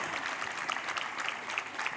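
Esports crowd at a StarCraft II finals applauding and cheering for the player Gumiho, a dense, steady wash of clapping with scattered shouts, sustained for the whole moment.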